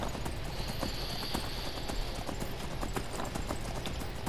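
Horse hooves clip-clop steadily in Skyrim, the video game, a quick, regular walking rhythm close by over a constant backdrop of game ambience, with no talking.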